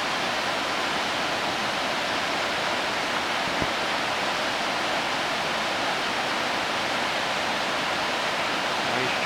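Whitewater roaring through Blossom Bar rapids on Oregon's Rogue River, a dense, steady rush of churning water that fills the whole stretch at constant loudness, close and unbroken.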